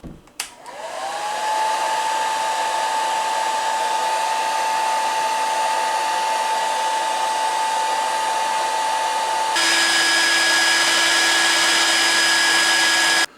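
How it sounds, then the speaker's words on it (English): A hair dryer powered through a 2000-watt power inverter whirs up and blows steadily at high speed, a loud continuous whine that shifts pitch partway through. "you pop a hair dryer onto something on high speed"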